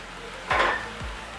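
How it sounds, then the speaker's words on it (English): Chicken and sausage spaghetti sauce stirred in a pan, a brief scraping swish over a steady low simmering sizzle. "We're just going to stir it again."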